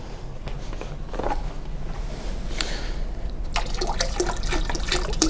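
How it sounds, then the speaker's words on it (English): Water poured into the heating bath of a rotary evaporator in a lab, a steady splashing pour that grows fuller and brighter in its second half, close and continuous. "I'm going to pour some more water into the bath"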